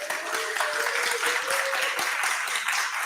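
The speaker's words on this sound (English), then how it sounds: "Continue making some noise for CityJS for throwing this super amazing event." A workshop audience at a CityJS pre-conference event claps and makes noise, giving a dense, even roll of applause that holds steady for the whole stretch, with a faint voice briefly audible.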